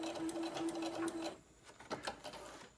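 A sewing machine back stitches a seam on a lunch tote bag, its steady rapid whir running close and loud for over a second before stopping, followed by a few light handling clicks.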